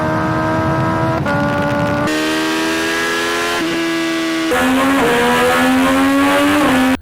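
Loud, close exhaust of a middleweight sport motorcycle such as a Honda CBR650R or Triumph Daytona 660, with several sustained revs and sharp shifts in pitch as the throttle opens and drops between runs.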